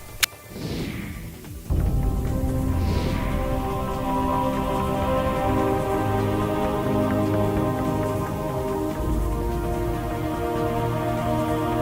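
Heavy monsoon rain pours steadily in Nagpur, Maharashtra, a dense continuous roar after a couple of brief knocks at the start.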